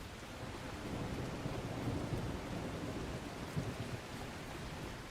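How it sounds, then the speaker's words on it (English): Steady heavy rain pours through a thunderstorm in The Last Caretaker video game, with low rolling thunder rumbling continuously underneath, loud and close throughout with no voices. "This storm is pretty loud."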